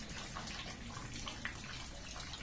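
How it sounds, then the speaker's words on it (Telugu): Rainwater spilling off metal roof sheets during steady drizzle and falling into buckets, a continuous close splashing and trickling wash with small drip accents, no voices. "ఇంకా ఈ రేకుల నీళ్లు దుంకుతున్నాయి వానకు, ఈ ముసురుకు బకెట్లా పడుతున్నాయి."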